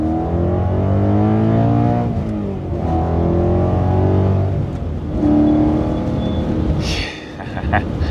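A BMW E92 M3 V8 revs and pulls steadily from inside the car, a loud sustained engine drone with rising and falling pitch, ending with a brief lighter clatter.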